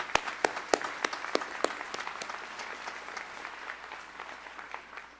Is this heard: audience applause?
yes